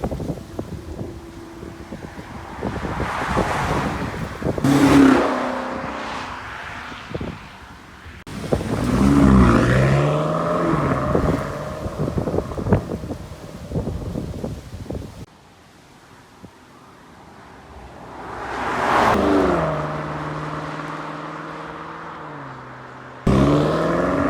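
A 2021 BMW M5 Competition drives on the road, its engine rising and falling through gears in repeated loud sweeping surges with heavy wind noise, punctuated by abrupt cuts between passes.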